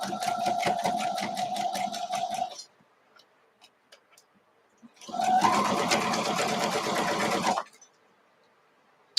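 A sewing machine stitches a quarter-inch seam on a mini nine-patch quilt block in two steady whirring runs, each lasting about two and a half seconds. A quiet pause of faint handling sounds separates the two runs.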